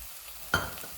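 Soybean masala roasts in hot oil in a pan, a single burst of sizzle rising sharply and fading back into a low steady hiss, with no one talking.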